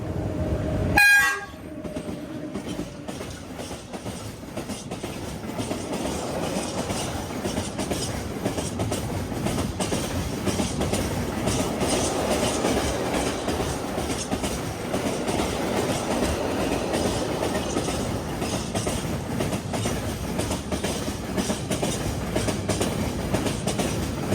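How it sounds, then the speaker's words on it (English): Polish electric locomotive ET22 roars past southbound hauling an empty freight train of caustic soda tank wagons, with a brief horn toot at the start and continuous wheel rumble and clatter, in sunny central Poland. "ET22162 speeds southbound with an empty train of caustic soda tanks"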